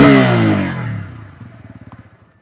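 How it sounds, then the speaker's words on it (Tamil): A Bajaj Pulsar N160 motorcycle with a new 4-valve engine roars loudly, then its revs drop away into a steady, pulsing idle, heard close up with no talk. "ஸோ இந்த மோட்டார் சைக்கிள் சவுண்டு அந்த பழைய பல்சரை அப்படியே பிரதிபலிக்கிற மாதிரி இருக்குது"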